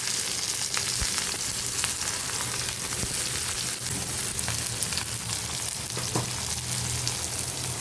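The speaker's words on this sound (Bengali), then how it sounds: "এখন আমি তেলের মধ্যে গরম মশলা দিয়ে দিচ্ছি। এখন দিয়ে দেবো পেঁয়াজ," Onions and garam masala frying in hot oil, a steady, dense sizzle with faint crackles throughout, close and continuous, with no talking.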